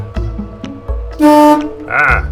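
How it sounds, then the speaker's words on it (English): A car horn sounds in a garage where a daily-driver car is being wired, first with one steady honk of about a third of a second, then a shorter wavering blare, between clunks and handling noises. "Honk."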